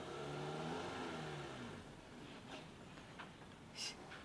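A car engine revs in rising and falling pitch sweeps as an elderly woman parks, fairly close, then fades into quieter background noise with a few faint knocks.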